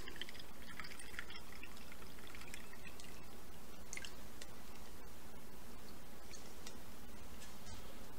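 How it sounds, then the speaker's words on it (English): Juice poured off canned mixed vegetables, a steady liquid splash with small drips running for several seconds at close range, no voices. "Now I'm going to get rid of the juice. I'm just pouring this right here."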